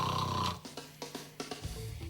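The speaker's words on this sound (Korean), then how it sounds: "그야말로 코 고는 소리" A sleeper monitored in a sleep study snores loudly in a series of rough, rattling breaths, four or five bursts in quick rhythm after a brief opening tone.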